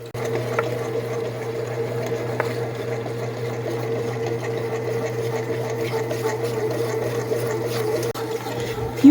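A bread machine mixes dough in a steady mechanical hum, a low motor drone with faint rhythmic churning and occasional soft knocks, close and continuous with no talking.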